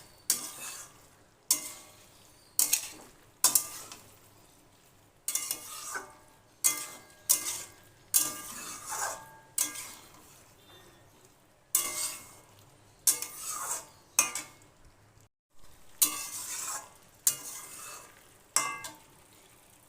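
Mixed vegetables for a vegetarian chhokka, with a spoonful of sugar just added, stirred in a pan: rhythmic spatula scrapes and clinks against the pan about once a second, each with a brief sizzle, separated by quieter gaps.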